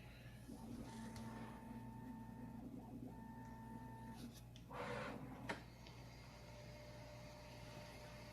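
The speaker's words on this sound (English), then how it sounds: "So printer calibration on here is saying approximately 21 minutes." A Bambu Lab X1 Carbon 3D printer runs its calibration, giving soft whirring stepper-motor tones and steady fan hum, with a short burst of movement noise and a click midway, quiet and close.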